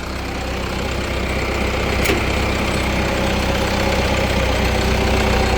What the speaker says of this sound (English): I can shut off this tractor